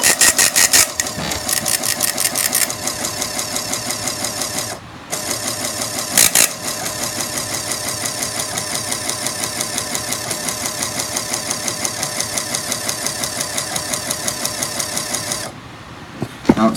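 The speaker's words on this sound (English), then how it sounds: "Now it's done printing out after a rolling sound." EAS alert unit printer runs steadily as it prints out a hazardous materials test alert, a continuous buzzing, rattling mechanical drone with brief dips, heard alone and close.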